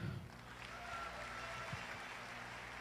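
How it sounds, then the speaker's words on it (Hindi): Applause from an audience at a business recognition gathering, a faint, steady wash of clapping with a brief voice at the very start. "बजाओ इस बात पे तालियां"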